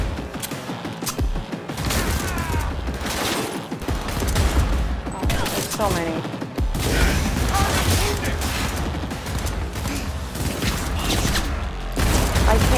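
Dense, relentless gunfire fills a firefight in the Cyberpunk 2077 video game, with rapid overlapping shots and thuds throughout and a voice speaking briefly over the din.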